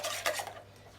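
Eggs being mixed by hand in a bowl for an apple cake, a brief faint scrape and clink of utensil against the bowl.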